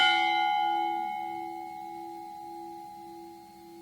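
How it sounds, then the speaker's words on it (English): A memorial bell is struck once at a Memorial Day ceremony in Richmond, Virginia. Its clear, ringing tone decays slowly over several seconds in quiet surroundings. "We will ring the memorial bell"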